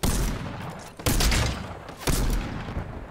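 Three heavy video game gunshots, loud and close, each landing about a second apart with a short decaying tail, and no talk over them.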